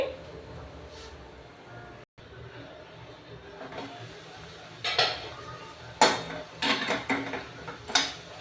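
A spatula stirs beans frying in a pan for a bean and tomato curry, scraping and clinking against the metal in a few irregular bursts over a low, soft frying hiss.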